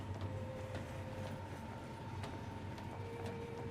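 A train in Final Fantasy XV rumbles along with a low steady roll, faint tonal hums and occasional light clicks of the track, quiet and continuous.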